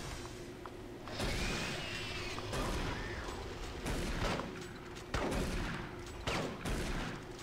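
Rapid chain gun bursts in the shooter game Doom 3, loud, dense repeated firing from about one second on, sustained with brief gaps and heavy mechanical rattle throughout.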